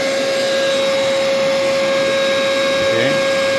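A vacuum cleaner runs steadily inside a homemade cardboard box clean room built for dust-free repairs, a loud, constant whine with a strong tonal hum, and faint talk beneath it.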